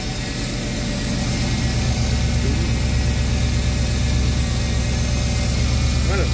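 Pontiac Firebird engine idling steadily with a possible exhaust manifold leak, a continuous low rumble with a faint ticking texture, close and constant throughout.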